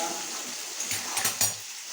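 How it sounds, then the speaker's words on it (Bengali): Potatoes fry in a pan with cumin seeds and bay leaves for a Bengali potol korma, giving a steady close sizzle with a few brief stirring bursts. "আলুগুলো একটু ভেজে নেব।"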